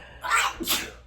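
A single sharp sneeze rings out close and loud, a quick intake followed by an explosive burst, heard alone inside a skoolie van.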